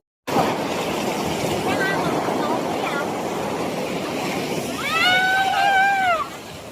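Sea waves slosh and splash around a small boat crossing to a nearby island in rough water, a steady broadband wash with wind buffeting, while people shout and talk over it.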